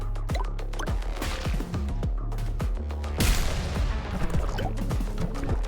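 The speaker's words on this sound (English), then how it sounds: "It's going to do the corpse explosion on top of all the other things." Corpse explosions in the video game Pathogenic burst in a dense, loud barrage of booming impacts and crashes layered over continuous game noise, with a bigger blast near the middle.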